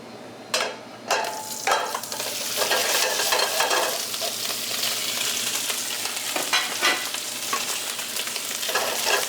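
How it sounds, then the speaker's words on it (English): Sausage meat sizzles loudly in hot extra virgin olive oil, a dense continuous frying hiss punctuated by sharp scrapes of a spoon breaking it up in the pan. "And then we're going to put our sausage in."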